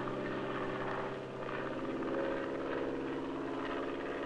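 A small plane flying over the Santa Barbara Channel islands on an aerial survey, its steady propeller and engine drone filling the cabin continuously, loud and close, with no voices.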